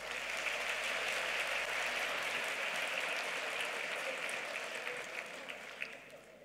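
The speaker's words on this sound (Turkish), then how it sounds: "Gönülden güçlü alkışlarınız sanatçılarımız için gelsin" Steady, dense applause from a large audience at a gala concert in Bursa, a continuous wash of many clapping hands that holds loud for several seconds before thinning slightly toward the end.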